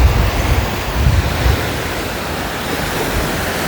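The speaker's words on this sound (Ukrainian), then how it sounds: "Ранковий океан." Steady roar of ocean surf breaking continuously on a shore, full and close, with low rumbling swells and a hiss of spray; no voices.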